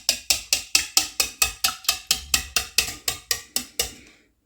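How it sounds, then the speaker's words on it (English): Wire whisk beating eggs in a bowl to break up the yolks into one even colour, a rapid, steady run of about fifteen sharp metallic clicks and scrapes, close and clear with no talking. "I'm just grabbing a whisk and I'm just going to break up all of the yolks and make sure it's one even color"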